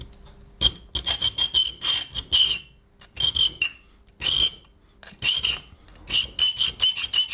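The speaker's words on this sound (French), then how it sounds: "je vais commencer par limer cette partie-là avec une lime ronde assez grosse" Rhythmic rasping strokes of a large round file on the metal of a folding knife being made, close up, in short bursts with pauses, each stroke carrying a faint high squeal.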